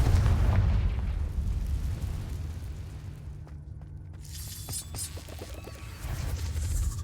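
Confringo blasting spells going off in Hogwarts Legacy, heavy rumbling booms and bursts over a low game soundscape, with a sharper crackling flash of debris near the end.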